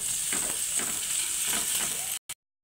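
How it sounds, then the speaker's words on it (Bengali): Chopped onions frying in hot mustard oil, a bright, steady sizzle with a few soft stirring scrapes, cutting off abruptly near the end. "তেল গরম হয়ে গেছে, পেঁয়াজ কুচি দিয়ে দেব। পেঁয়াজটাকে একটু লাল লাল করে ভেজে নেব।"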